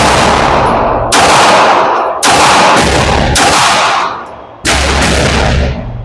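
Five loud gunshots from a Fusion Firearm XP Pro pistol in PVD bronze are fired at an uneven pace at an outdoor range. Each is a sharp, booming crack with a long echoing decay, and no talk is heard.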